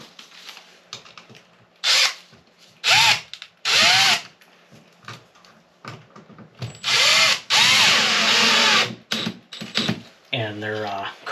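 Power drill driving 2-inch coated screws into wood, several separate whirring bursts of a second or so each with pauses between, loud and close, with a person speaking in the gaps.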